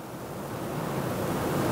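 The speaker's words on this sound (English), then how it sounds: "It is pouring." Heavy rain pours outside as a steady, dense wash of broadband noise, constant and fairly quiet, with no voices.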